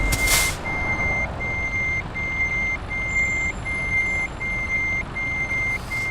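A Volvo truck reverses, its backup alarm sending out a steady string of evenly spaced, high electronic beeps over a low engine rumble, with a brief burst of air noise at the start.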